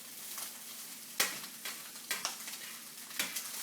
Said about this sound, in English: Keep stirring everything up.